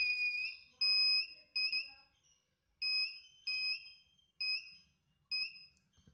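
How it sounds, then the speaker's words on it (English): A shrill electronic beep from a homemade metal detector held near a metal object sounds in repeated bursts, about seven tones of varying length with short gaps, close and clear over near silence. "So when I keep a metal object near it, this gives beep."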